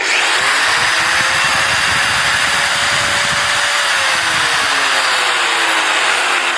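An electric grinder powered from a power station inverter whines loudly and steadily close by, its pitch rising and then slowly sagging as it runs, with no talking over it.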